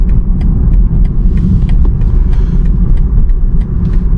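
A 2021 BMW 330i driving on the road, heard from inside as a loud, steady low rumble of tyres and engine with faint ticking noises above, no voices.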